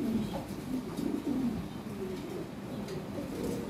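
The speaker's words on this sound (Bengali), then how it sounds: "আমার লাহোরি কবুতর দেখুন, আমার লাহোরি খামারি।" Lahore pigeons cooing at a pigeon farm, soft low coos repeating steadily and close against a constant murmur of many birds, with faint chirps mixed in.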